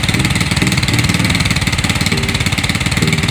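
Motorcycle engine idling steadily after a stator replacement, a close, loud, even chugging putter with no voices.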